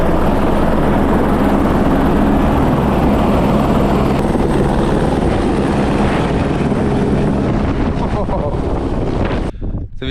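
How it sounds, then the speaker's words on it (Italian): A helicopter roars loud and close after dropping skiers on a snowy ridge in Iceland, its steady rotor thrum mixed with wind buffeting the microphone before cutting off near the end. "l'elicottero ci ha appena lasciato su questa cresta"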